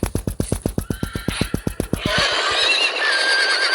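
Horses in a Game of Thrones video game come galloping in with fast rhythmic hoofbeats, then a loud, close, drawn-out whinny rings out as the hooves fade.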